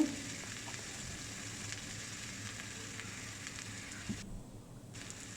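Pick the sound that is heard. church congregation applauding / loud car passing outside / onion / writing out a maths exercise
onion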